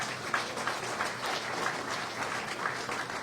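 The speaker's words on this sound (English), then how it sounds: "Round of applause for him and everything he's done" Steady applause fills the room for a two-time Stanley Cup winner, a dense, even patter of many hands at moderate distance and fairly faint, with no voices over it.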